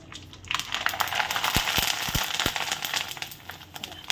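Thin wheat kurdai hit hot oil in a kadhai and burst into loud, dense crackling and spitting, with a few sharp pops standing out over the continuous close fry.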